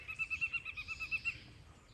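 A bird in an oak sings from a hidden perch, giving a quick series of about ten evenly spaced high, clear notes over roughly a second and a half, moderately near with no other sounds.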